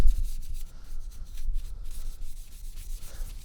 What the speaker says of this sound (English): We can kind of just take it and just do a little bit of scrubbing in here.